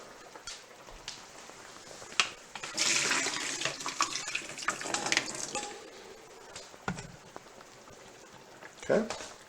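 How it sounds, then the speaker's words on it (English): Water and cooked rotini pasta gush and splash into a kitchen sink for a few seconds as it drains, with clattering and a voice close by. "I'm going to drain the water"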